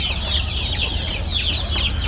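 A flock of free-range kampung chickens, black KUP birds and brown layers, keeps up a continuous chatter of overlapping clucks and chirps against a low steady rumble, with no single bird standing out.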